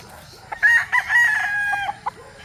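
Bulik breeder rooster gives a loud, close crow with a long sustained middle, followed by a few short clucks against a quiet farmyard background.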